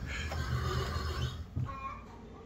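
An impatient horse whinnies in a barn, a drawn-out, wavering neigh over a steady low background rumble, with a faint thump partway through.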